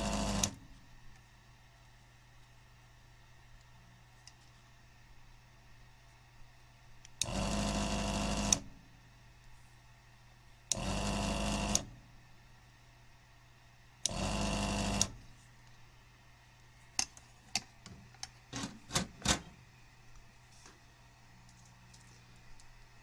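A solder sucker clears solder from the holes of a Multimorphic PD-16 coil driver board: four separate loud bursts of about a second each, then a quick cluster of sharp clicks, over a quiet background hum.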